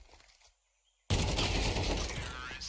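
Rapid automatic gunfire in a Counter-Strike match bursts in loud and sustained after a second of near silence, a dense rattling barrage continuing to the end.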